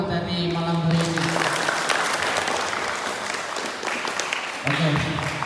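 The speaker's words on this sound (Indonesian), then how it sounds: "tepuk tangan untuk pemateri malam hari ini" A seated audience at an evening sociology school session applauds a speaker, dense clapping sustained for several seconds, with a voice speaking over it at the start and again near the end.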